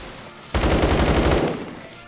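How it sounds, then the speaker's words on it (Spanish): Pistol gunfire in a video game against many criminals: a rapid burst of several sharp shots fired in quick succession, loud and close, lasting about a second before cutting off. "Sinceramente, miren, disparo y... Bueno, y maté a uno."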